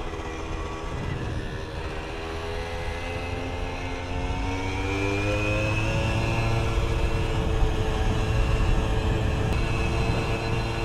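A moped engine drones continuously while riding, its tone slowly rising and shifting, with steady wind and road noise growing slightly louder partway through; no voices.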